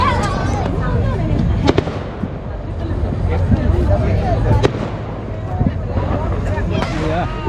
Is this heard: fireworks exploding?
yes